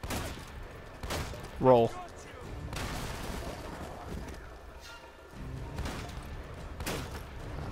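Enemy gunfire in the video game Uncharted: Drake's Fortune: a few sharp, spaced shots, with a loud burst near the start and later bangs. It stays moderately loud under ongoing talk from players.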